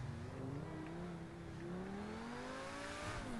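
A car engine in GTA V holds a steady, droning rev that climbs gradually in pitch, loud and close, with continuous road or wind noise underneath and no talking.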